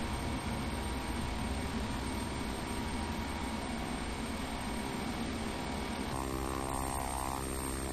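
The propeller engines of a King Air 350 drone steadily while taxiing in the FSX flight simulator, a dense continuous hum that shifts in tone near the end, with no one talking.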